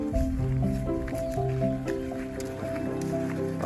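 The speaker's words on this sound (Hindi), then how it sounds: "पानी चल रहा है जी" Water runs and drips into a container at a village langar, a gurgling, wet flow with tonal ringing filling the clip at moderate level, with a bit of background voice.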